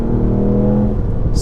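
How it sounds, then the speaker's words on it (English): Engine of a Ford Fiesta ST with a stage 1 tune drones steadily from inside the cabin, a loud constant low thrum with the exhaust pops not clearly standing out. "the sound of the exhaust is just lovely in this"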